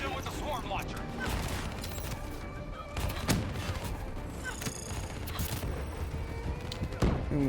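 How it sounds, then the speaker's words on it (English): A swarm launcher in Call of Duty Black Ops III fires micro missiles, giving a dense, loud run of launches and blasts. Sharp louder bursts punch through near the start, the middle and the end. "The swarm launcher."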